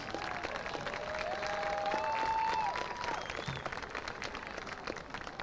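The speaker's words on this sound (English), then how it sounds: "let's give all of our seniors one more round of applause" High school football stadium crowd applauding the seniors at a Bulldogs game, a steady, distant wash of clapping across the stands with a whistle-like tone threading through.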